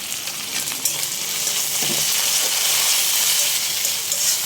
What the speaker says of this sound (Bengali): আমার পেঁয়াজটা ভাজা হয়ে গেছে লাল লাল করে এখন আমি মশলা দিব